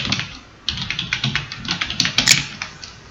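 Keys tapped on a computer keyboard while typing a message in a chat app, a run of close, moderately loud clicks in uneven bursts, with no voices.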